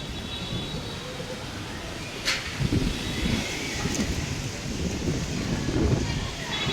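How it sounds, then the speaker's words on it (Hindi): Steady rushing gusts of strong wind roar continuously, with a few louder bursts and rustling, as dust blows and rain begins; a voice speaks faintly underneath. "देखो कितनी तेज़ हवा चल रही है।"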